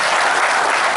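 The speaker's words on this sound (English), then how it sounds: "Please, another round of applause for." An audience at a university department ceremony claps in a dense, steady burst of applause filling the whole brief moment, loud and close with no voices on top.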